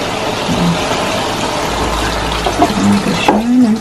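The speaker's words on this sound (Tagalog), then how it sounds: "lalagyan na natin siya ngayon ng tubig" Water poured into a pot of cooking pork for menudo, a steady splashing fill with sizzling underneath and a few clinks of the pot near the end.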